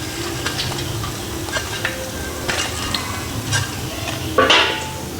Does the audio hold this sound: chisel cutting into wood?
no